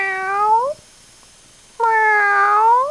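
A cat gives two clear, rising meows separated by a short silent pause, each one loud and close.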